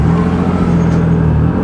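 A single-turbo Nissan 370Z engine holds a loud, steady droning hum close by, a brief continuous rev with no other sounds.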